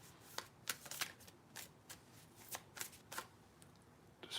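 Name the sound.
shuffling a deck of cards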